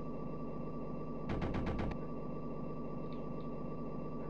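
A-10 gun bursts in the Amiga game A-10 Tank Killer come as a rapid rattle of about six quick shots lasting half a second, over a steady low engine drone.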